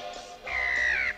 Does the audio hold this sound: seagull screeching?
yes